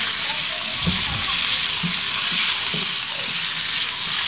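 Pork belly frying and browning in a hot pan with crushed black pepper, giving a steady, close sizzle with occasional soft stirring scrapes throughout.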